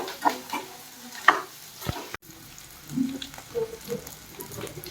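Egg manchurian made from omelette pieces is stirred with masala in a frying pan: scattered scraping and clattering strokes over a soft sizzle, close and fairly quiet, with no talk.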